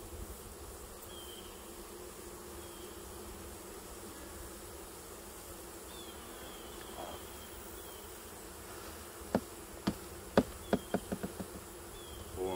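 Honey bees buzz steadily around a brood frame lifted from a hive, a dense continuous drone, with a run of sharp wooden knocks and clicks near the end as the frame is handled; no talking.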